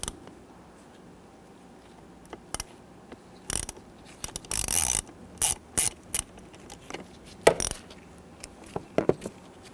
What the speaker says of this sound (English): We're going to use a T20 Torx bit here on our 1/4" ratchet to go ahead,